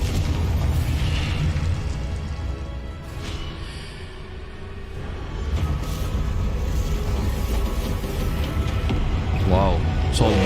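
Confringo spell blasts going off in Hogwarts Legacy, with booming bursts and rumbling explosions rolling through the scene, mixed with game noise and a shouted voice.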